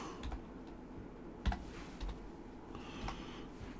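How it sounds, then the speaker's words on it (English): Typing on a Japanese computer keyboard, a run of soft, quick key clicks with a few sharper taps, close and steady throughout with no voices. "I'm still getting used to this Japanese keyboard."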